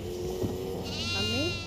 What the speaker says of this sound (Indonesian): Aku jumpa kambing.